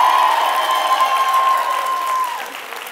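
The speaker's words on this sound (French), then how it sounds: "On applaudit David!" A studio audience applauds a game-show contestant, with a crowd's clapping that fades gradually while a sustained tonal sound rings over it.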